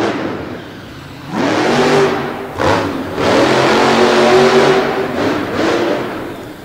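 Monster truck engine revving hard as it launches from the starting line at a Madison arena event, rising in several loud surges with brief dips between them.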